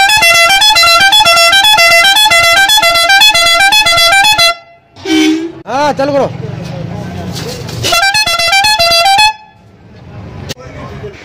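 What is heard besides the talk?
pressure horn on pickup truck honking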